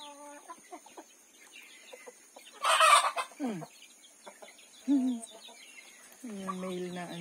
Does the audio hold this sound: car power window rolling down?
no